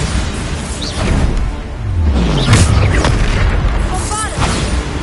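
Explosive booms from the Bombarda blasting spell in the video game Hogwarts Legacy, a loud low rumble swelling through the middle amid other spell effects and game sounds, with no clear talk.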